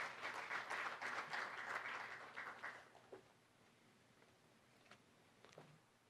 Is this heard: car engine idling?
no